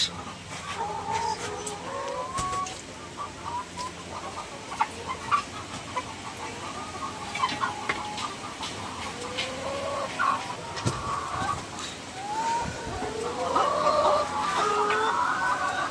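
Several red hens of about 1.9 kg at a poultry farm cluck and murmur throughout at close range, with a brief sharper squawk and faint background noise.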